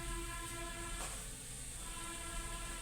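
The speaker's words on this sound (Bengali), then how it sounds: "এখন আমি সজনার ডালটা ঢেলে দিব।" Drumstick (sajna) dal hits onions and garlic fried to a deep brown in hot oil. A loud, steady sizzling hiss fills the whole moment and surges briefly as the liquid goes in, with no one talking.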